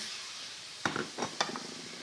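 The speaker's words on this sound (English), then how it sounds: "You can see that sizzling for a matter of seconds, and then we can start to add our fish." Prawns dropped into a hot frying pan give a quiet, steady sizzle, broken by a few sharp clinks and stirring knocks of utensils against the pan.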